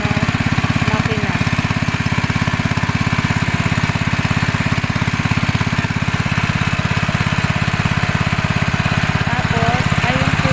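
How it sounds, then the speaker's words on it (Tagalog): A small engine-driven sprayer motor on a farm runs steadily and loudly throughout, a constant mid-pitched drone with rapid regular firing pulses, close by, and faint voices in the background. "Ayan po yung kanyang ginagamit na"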